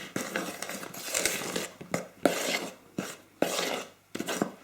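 Sausage mix with dried oregano stirred in a bowl: repeated scraping, clinking strokes of a utensil against the bowl, each lasting about half a second with short pauses between, close and clear with no talking.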